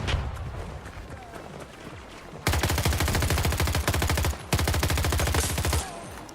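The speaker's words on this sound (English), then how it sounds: "It's entirely you shooting me." Rapid automatic gunfire from a Battlefield 2042 multiplayer match, loud and sustained in two long bursts after a quieter stretch of background game noise, with a short gap between the volleys.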